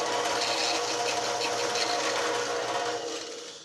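A drill turns a small Forstner bit into wood, giving a steady, close motor whir with a chattering cutting texture that holds for a few seconds and then tapers off at the end.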